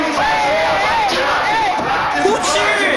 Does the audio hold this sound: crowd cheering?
yes